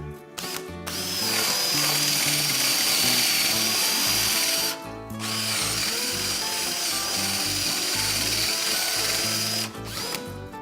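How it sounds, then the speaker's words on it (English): A power drill with a 1 3/8-inch bit bores through wood for a Murphy bed frame in long grinding bursts, briefly stopping twice, loud and close. "I'm going to take this 1 3/8" drill and drill through from both sides"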